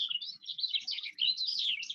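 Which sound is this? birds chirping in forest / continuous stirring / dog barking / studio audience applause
birds chirping in forest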